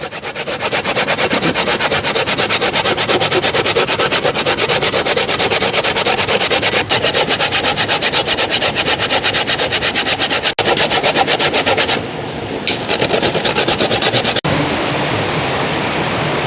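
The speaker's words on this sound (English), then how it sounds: "so get the coconut grated" Coconut grated by hand on a grater, cooked outdoors bush style in Jamaica for pumpkin rice: a loud, steady, continuous rasping scrape that runs without a break for about twelve seconds, then pauses briefly and resumes more softly.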